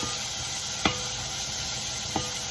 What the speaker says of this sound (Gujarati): તો હવે હું એને પરવળની અંદર મેં નાખી દીધા અને હવે એને હું છે ને મિક્સ કરી લઉં